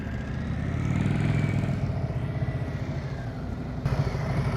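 A motorcycle ridden at slow speed with the throttle held open gives a steady, close engine drone with a rough, pulsing low rumble throughout.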